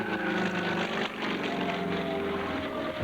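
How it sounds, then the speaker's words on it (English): A Russian-built Sukhoi 26 MX aerobatic airplane flies overhead with a steady, droning propeller-engine hum, its pitch shifting slightly as it passes at moderate distance. "Tom could show off his new Russian-built Sukhoi 26 MX"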